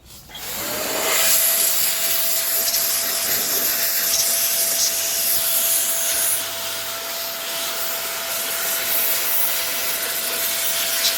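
An XPOWER A-2 Airrow Pro electric duster and blower spins up and blows dust with a loud, steady whine and rushing air, close and continuous for about ten seconds.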